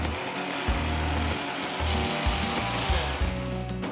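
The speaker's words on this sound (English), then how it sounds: "So now we're going to grind it again." A mixer grinder blends mint coriander chutney with added curd, a loud steady motor whir broken by short pulsing bursts and stops as the jar contents churn, close up with no talking.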